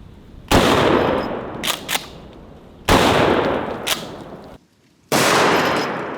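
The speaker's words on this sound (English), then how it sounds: "Let's try some 12 gauge birdshot. I'm gonna shoot them both with this." A 12 gauge shotgun firing birdshot at coolers, with three loud, close blasts separated by a few seconds, each decaying into a ringing echo, plus a clank of pellets hitting the targets.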